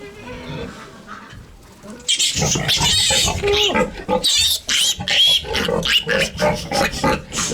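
Loud, close pig grunts and squeals in rapid bursts, with a person talking amid the noise.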